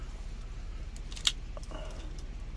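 A set of Kia Sportage car keys, one with worn buttons and a snapped blade, jingles and clinks faintly as it is handled, with one sharper metallic tap amid soft rustling.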